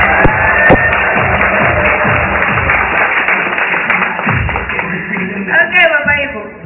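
An audience claps during a talk, loud close hand claps with irregular taps and thuds mixed with voices and murmuring throughout.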